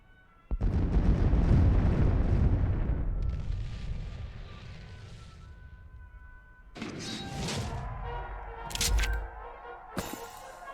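A flame panzer attack explosion in the card game KARDS, a sudden loud blast with a long rumbling roar that fades, then a few lighter clanks and a sharp crack alone.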